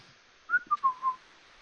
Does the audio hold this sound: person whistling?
yes